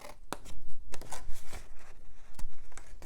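Scissors snipping a slit in a paper flip box, a series of close, crisp cuts in an uneven rhythm with brief crinkles of paper between them.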